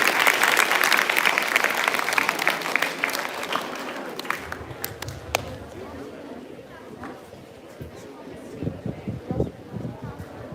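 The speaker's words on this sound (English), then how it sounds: "A big round of applause for Anvesha class 5." Applause from a school audience at a National Science Day celebration, honouring a class 5 student: dense clapping fills the first four seconds, then thins into scattered claps and crowd chatter.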